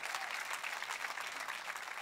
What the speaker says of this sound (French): Vous pouvez applaudir si c'est votre cœur avec moi ce matin.